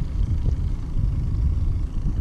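A small boat engine idles and rumbles steadily close by on a lake while trolling for brook trout, a low continuous drone with some wind noise and no talk.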